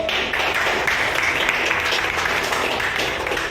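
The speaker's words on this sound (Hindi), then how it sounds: "एक बार जोरदार तालियां हमारे सक्सेस पाठशाला के लिए" A crowd applauds, steady dense clapping that holds at an even level throughout.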